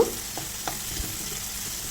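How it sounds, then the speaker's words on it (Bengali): Dried red chili frying in hot mustard oil in a pan, a soft steady sizzle with a few light stirring scrapes, close and quiet throughout. "লঙ্কাটাকে একটু ভেজে নেব"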